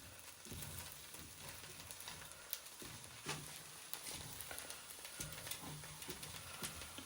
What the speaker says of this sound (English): with your tongs, you just want to give all that a good stir